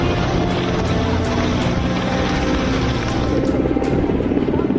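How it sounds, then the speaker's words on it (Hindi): A helicopter flying over Ram Manohar Lohia Hospital in Delhi while showering flowers, its loud rotor thrum and engine whine steady and close throughout with a faint rhythmic beat. "दिल्ली के राम मनोहर लोहिया हॉस्पिटल पर हेलीकॉप्टर ने फूल बरसाए।"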